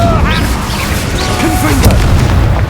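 An Incendio fire spell is cast in Hogwarts Legacy, producing a loud, dense burst of whooshing, crackling and crashing effects over a rumbling combat backdrop, with short creature-like chirps mixed in.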